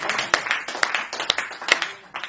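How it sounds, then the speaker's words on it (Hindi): Sparse clapping from a studio audience welcoming poet Farooq Saral, a handful of distinct sharp claps spaced unevenly over a soft background. "मैं चाहता हूं चस्ती स्टूडियो को देखने वाले दर्शक फारूक भाई का जोरदार तालियों से स्वागत करें"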